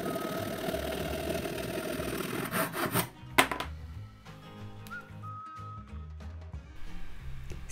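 A piece of scrap wood being cut to size for a homemade rubber stamp handle, rough sawing strokes that grow louder and then break off, followed by quieter scraping and a few faint tones.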